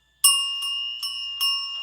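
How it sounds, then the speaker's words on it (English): A loud bell is rung during a tarot reading, with four clear bright strikes in quick succession, each ringing on and overlapping the next, heard close up against silence. "I'm going to ring the bell."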